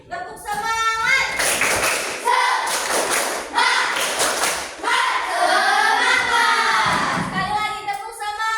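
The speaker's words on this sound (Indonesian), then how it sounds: "Tepuk semangat." Children in an elementary school classroom perform a rhythmic clapping chant, tepuk semangat, with bursts of patterned claps alternating with loud sung and shouted voices, close and energetic.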